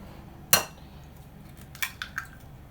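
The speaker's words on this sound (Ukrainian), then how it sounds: "вбиваємо два яйця" Two eggs cracked against a bowl for a banana semolina cake: one sharp crack followed a second later by a softer pair of taps and clinks, close and quiet with no talk.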